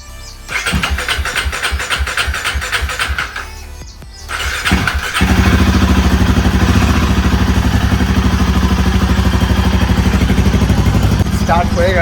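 A Royal Enfield Himalayan motorcycle cranks over with a starter whir, stumbles briefly, then fires on a second attempt and settles into a loud, close, thumping single-cylinder idle, with a voice speaking near the start.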